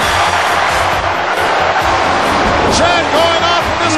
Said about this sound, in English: Chad going off from this capacity crowd